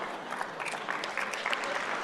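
An audience at a talk applauds steadily, a dense, moderately loud wash of clapping that fills the whole stretch without letup and with no voices over it.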